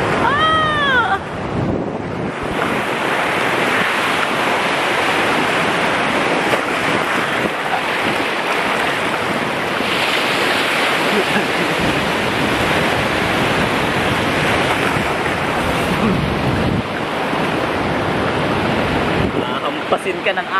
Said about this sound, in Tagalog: Nakakampasin ka ng alon eh.